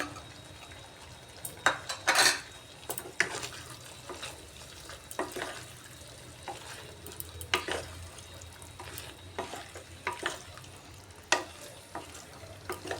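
Paneer and potol being stirred and sautéed in a pan, with irregular scraping and clinking strokes over a low, steady sizzle, close and moderately loud with no talking.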